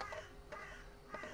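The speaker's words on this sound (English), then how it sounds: "That is not a pigeon, that's a rook." A rook caws three times outdoors, hoarse and somewhat distant, each call short and spaced apart over a soft background hum.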